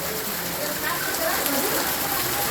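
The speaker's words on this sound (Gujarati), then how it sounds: "વરસાદ પણ અવિરત ચાલુ જ છે" Heavy rain pours down in Vankaner, Gujarat, flooding a street junction, a dense, continuous wash of noise, with a voice faintly mixed in beneath the downpour.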